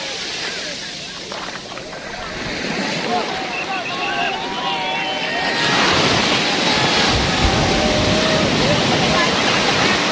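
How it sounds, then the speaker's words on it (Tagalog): Strong ocean waves break on the beach at Pico de Loro, a continuous roaring surf that grows louder and fuller midway, with wind buffeting the microphone and a voice speaking over it. "Maalon, pwedeng mag-surf. Lakas ng alon."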